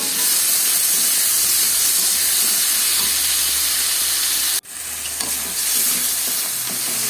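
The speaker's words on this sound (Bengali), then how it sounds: "তারপরে কড়াইতে আবার তেল দিয়ে টমেটো দিয়ে দিলাম" Tomatoes with fried nuts frying in oil in a wok, a loud continuous hissing sizzle broken by one abrupt short dropout before the sizzle resumes.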